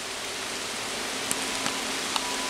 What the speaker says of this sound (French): Au milieu des arbres, par une grosse pluie et un orage.